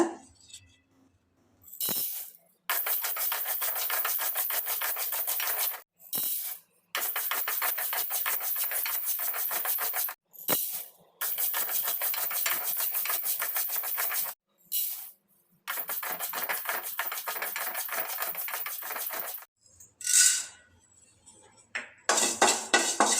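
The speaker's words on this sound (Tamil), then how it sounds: "இப்போ தனித்தனியாக இதை வறுத்துக்கலாம் எண்ணெய் எதுவும் விட தேவையில்லைங்க வெறும் வானலிலே மிதமான தணலில் வச்சு நல்லா வாசனை வர வரைக்கும் வறுத்துக்கோங்க" Coriander seeds are dry roasted in a bare pan over medium heat. Bursts of rattling, scraping stir noise alternate with brief silences, close and crisp, with no talk.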